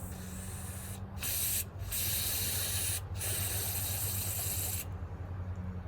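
Water sprays from a hose in a loud, steady hiss, cutting off briefly a few times before stopping near the end.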